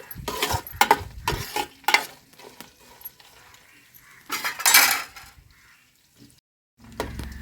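Onions frying with curry leaves in a pan, stirred in short scraping bursts with a spoon that knocks against the metal, loud sizzling spurts separated by quieter pauses, no voices.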